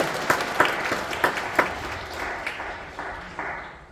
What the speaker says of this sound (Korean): 한 번 더 격려의 박수 쳐주셨으면 좋겠습니다